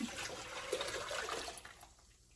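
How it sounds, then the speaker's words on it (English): Liquid cooking mixture is poured back into a pot, making a soft, close splashing and gurgling flow that gradually trails off into faint drips, with no speech. "Now we're going to pour this whole mixture back into our pot."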